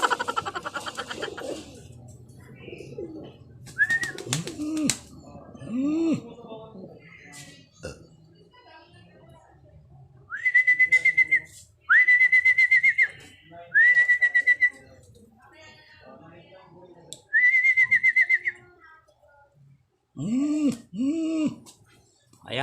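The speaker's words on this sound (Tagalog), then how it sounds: "Ayan, tumambay na mga kalapatids." Pigeons perched at a racing loft give soft, low intermittent coos amid quiet pauses, mixed with several loud, sustained human whistles and occasional voices nearby.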